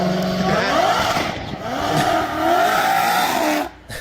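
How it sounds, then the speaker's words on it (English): A Ford Mustang Mach-E launches hard from a standstill. The loud, close engine revs up in rising sweeps, stutters briefly as the spark cuts in and out to keep the car straight, then drops away sharply at the end. "the spark cutting in and out and doing what it's supposed to do to keep the car straight was pretty interesting to hear"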